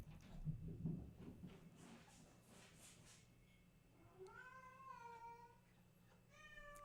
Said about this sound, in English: that cat just totally threw me off